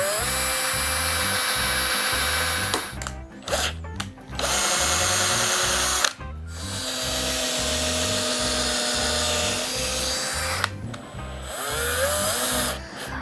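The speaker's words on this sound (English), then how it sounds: "I can go ahead, drill the other holes on here" A power drill boring a series of holes through pegboard, its motor loud and close, whining steadily in repeated bursts with short pauses between holes.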